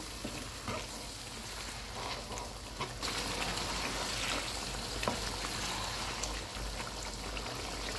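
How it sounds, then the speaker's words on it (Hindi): Ground spices fry in a karahi of beef for karahi gosht, giving a steady, close sizzle and crackle with faint stirring scrapes that runs the whole time, with no voices. "इनको 3 से 4 मिनट तक भून लेंगे।"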